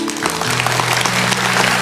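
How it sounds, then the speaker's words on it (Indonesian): Hands clapping from a church congregation worshipping God, a broad wash of applause over a sustained low musical tone, steady and fairly loud for a short burst. "Yang percaya kasih tepuk tangan untuk Tuhan."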